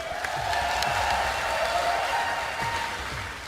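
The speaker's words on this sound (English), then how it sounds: "Give it a cheer, guys." An esports crowd at BlizzCon for a StarCraft II match cheers and applauds in a dense, continuous wash of claps and shouts lasting a few seconds, with no clear talk over it.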